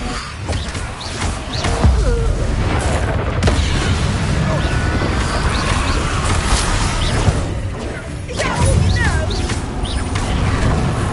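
Confringo blasting spell explosions in the Hogwarts Legacy video game, a dense, loud barrage of booming blasts and crackling magical effects layered over game music and combat noise, with a voice shouting spell names throughout.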